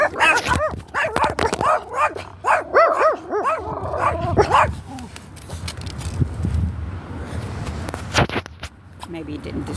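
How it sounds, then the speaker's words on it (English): Several dogs bark and yip repeatedly at a man, close and loud, in excited bursts that fade into scuffling footsteps and rustling, with a person talking over part of it. "They're barking at that guy there."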